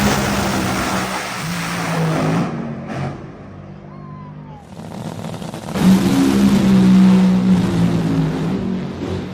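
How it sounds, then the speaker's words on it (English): A top fuel dragster roars off the starting line in a final pair at a drag race. The engine thunders loud and close, drops away briefly, then surges back even louder in a sustained blast. "final pair, top fuel"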